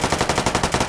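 Automatic fire from a PDW in the video game H3VR: a fast, steady string of about nine loud, close shots in under a second, with no talk.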